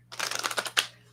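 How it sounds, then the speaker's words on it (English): A deck of tarot cards is riffle-shuffled close by, a fast burst of crisp, rapid flutter-clicks lasting under a second and ending in one sharp snap, with no talking. "Shuffle it better."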